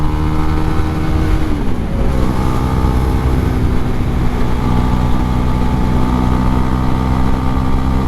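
A Husqvarna Svartpilen 401 motorcycle pulls steadily in fourth gear, its single-cylinder engine droning loud and close with a slight pitch dip early on, wind noise layered throughout.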